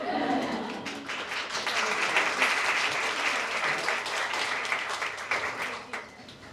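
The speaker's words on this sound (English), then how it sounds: "Let's give them another round of applause." An audience gives sustained applause after a lightning talk at a publishing and media event, a dense wash of many hands clapping that fades slightly toward the end.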